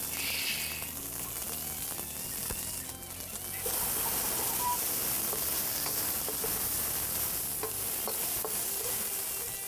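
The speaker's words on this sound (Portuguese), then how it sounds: "Esse é o canto da wok." Bell pepper stir-frying in a little oil in a wok gives a steady hiss and sizzle with scraping and stirring strokes throughout, fairly close and unbroken.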